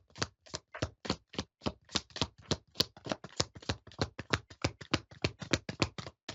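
Tarot cards are shuffled by hand in a quick, even rhythm of crisp slaps and riffles, about four per second, close and dry with no voices.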